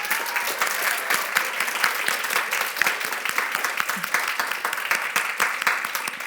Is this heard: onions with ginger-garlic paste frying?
no